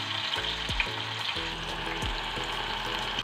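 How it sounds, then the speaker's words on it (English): Oil sizzles and crackles steadily as potato pieces fry in a pan, with occasional clinks and scraping of a utensil stirring the food. "Heat the oil in a pan, fry to the potato pieces."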